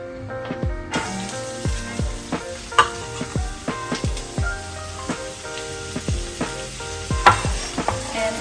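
Ginger and garlic sizzle in a pan for mapo tofu while a utensil stirs with repeated sharp scrapes and clacks, all under steady background music with tonal accompaniment; no one speaks.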